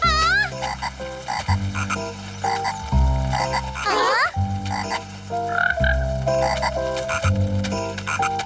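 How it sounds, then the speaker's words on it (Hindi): Small cartoon frogs croaking in a lively, rhythmic chorus of repeated croaks over a steady musical backing, with a brief squeaky twittering burst partway through; loud and close throughout. "छोटे मेंढक"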